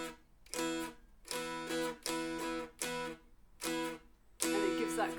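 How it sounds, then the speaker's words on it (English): Punchy muted strumming on a mountain dulcimer: a few loud chord strokes, each cut off short by fingers resting on the strings, with brief gaps between bursts and a final stronger strum. "as soon as I've finished strumming, I lift my fingers up, but they're still touching the strings"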